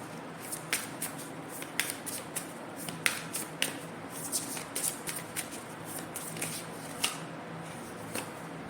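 Playing cards shuffled and drawn during a tarot-style reading, a steady run of crisp riffling flicks and snaps, close and fairly quiet, with no talking.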